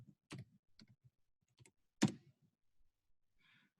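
A password being typed on a computer keyboard: a few sparse, quiet key clicks spaced irregularly across several seconds in a silent room, followed by a faint soft chime.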